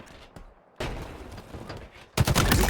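Bursts of automatic gunfire from the video game Halo come in loud, rapid volleys, starting softly, jumping to a heavy stream of shots and ending in an even louder barrage.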